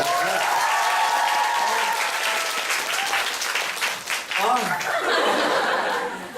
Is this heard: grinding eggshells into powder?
no